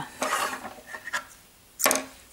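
Scissors snipping crochet yarn, two or three short crisp cuts close up with quiet pauses between them.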